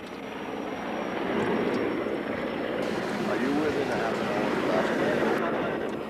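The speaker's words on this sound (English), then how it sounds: "Water bombers and helicopters are offering backup to the firefighters." Water bombers fly over a forest fire with a steady, loud aircraft engine drone that swells and holds for several seconds. A voice speaks over the roar.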